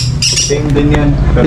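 Pet parrots, an Indian ringneck and lovebirds, give sharp, loud squawks and chirps close by while people talk over them.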